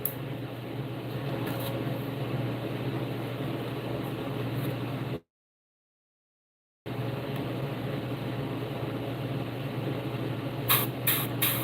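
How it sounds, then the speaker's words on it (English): An airbrush sprays paint onto a fishing lure in a golden shiner pattern, a loud steady hiss of air that cuts out briefly, then resumes with a few short bursts. "I'll spray some golden shiners in on this style lure."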